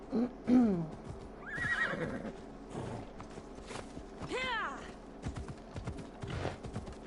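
A horse in Assassin's Creed Odyssey neighs and whinnies several times, with hoof clops and footsteps scattered between; moderately close, with some game effects in the background.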